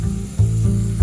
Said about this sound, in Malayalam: നമ്മുടെ കടലപ്പരിപ്പ് ഇട്ട് നല്ലപോലെ ഒന്ന് ഫ്രൈ ആവണം കേട്ടോ